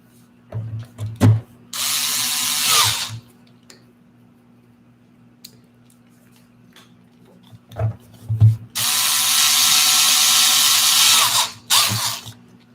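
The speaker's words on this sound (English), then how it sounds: "I'll put a couple of those screws in there." Power drill driving screws into a cyberdeck: two sustained whirring bursts, a short one and a longer one, each preceded by clicks and handling knocks, with quiet pauses between.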